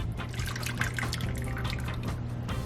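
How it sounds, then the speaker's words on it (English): Rendered meat fat from a Dutch oven of chili is poured into a side bowl, a steady wet trickling and dripping that runs unbroken and close for the whole stretch. "I usually just pour it into a bowl on the side."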